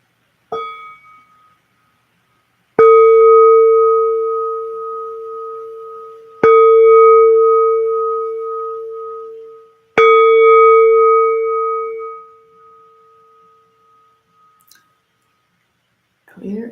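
A bell is struck three times at spaced intervals, each strike giving a clear, bright ring that sustains and slowly fades, preceded by a short softer ping and followed by near silence.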